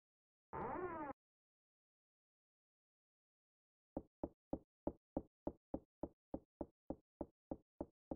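A stuck door in the SNES video game Clock Tower: a brief tonal sound, then after a pause a steady series of about fourteen sharp, evenly spaced knocks or rattles.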